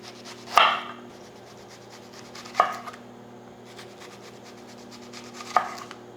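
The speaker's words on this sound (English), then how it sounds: "Let's start slicing the red onion to go in there." A knife slices through a red onion on a board in three sharp, separate cuts spaced a couple of seconds apart, close and fairly clear over a low steady hum.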